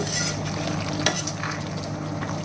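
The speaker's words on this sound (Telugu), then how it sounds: "ఇప్పుడు మనం ఫైనల్గా కొంచెం కొత్తిమీర కరివేపాకు వేసుకోవాలి. ఒకసారి బాగా కలిపేసుకుని" A pot of curry being stirred after coriander and curry leaves are added, a soft continuous sizzle with a few clinking, scraping strokes of a spoon, close and steady with no voices.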